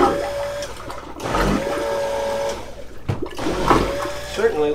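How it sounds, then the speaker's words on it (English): A marine toilet on a boat flushes after a joker valve replacement, with a steady rushing and pumping churn, a brief pause, then a second surge. The sound is loud and close, and a voice runs over it. "Let's go ahead and flush this and see what we got."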